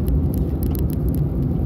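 Steady low road rumble and engine whir heard from inside a car driving through a town with the windows closed, with faint ticking clicks above and no talk.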